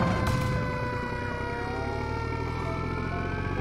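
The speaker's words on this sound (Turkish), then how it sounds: "Çabuk itfaiyeleri çıkartın." A fire truck siren wails loudly and steadily in the Minecraft video game, its rising and falling tones layered over a low rumble.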